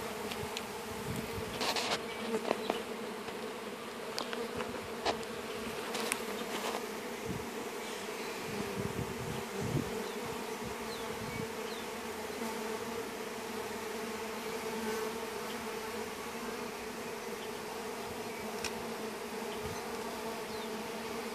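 Honeybees buzz around a hive at dusk with an outdoor feeder nearby, a steady, dense hum filling the whole stretch with a few louder passes close by and no voices.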